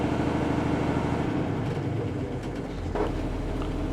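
An ex-Army Unimog's engine runs steadily at raised revs on its hand throttle, a loud, continuous low mechanical drone with a brief surge near the end, no voices.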